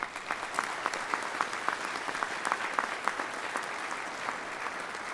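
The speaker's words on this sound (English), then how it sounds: "Would you please give these students a round of applause?" A crowd claps steadily for honor society students in sport management at the 2022 Troy University Honors Convocation, a dense, even round of applause with scattered sharper claps lasting the whole stretch.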